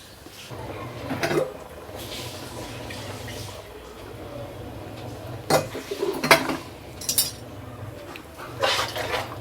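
Rice and water stirred in a metal cooking pot for Dindigul-style mutton biryani with seeraga samba rice: scraping clinks and sloshing strokes, louder bursts near the end, no talking.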